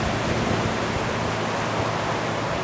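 Yakima River in flood stage, spilling over its banks after snowmelt, a dense, steady roar of rushing water, loud and close, with no voices.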